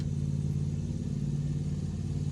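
A 1967 Chevy barn-find engine turns over under the starter, a steady, even low drone holding at one level throughout with no voices.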